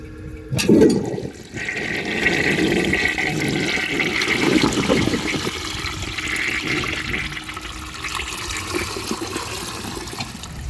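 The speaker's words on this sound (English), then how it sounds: "I'll go ahead and give that a flush and see what they do" A 1930 Eljer Sanus toilet flushes with a sharp lever clunk, then a loud rushing swirl of water that holds steady before easing into a slower draining trickle.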